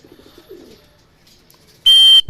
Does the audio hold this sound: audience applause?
no